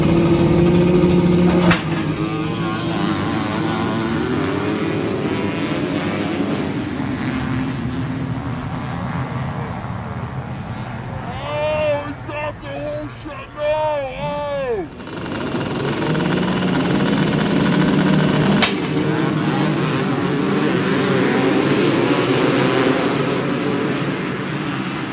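Loud, continuous two-stroke roar from a Honda CR 500 motorcycle engine at a race, rising and falling as the rider accelerates and shifts, with a brief dip midway before full power returns.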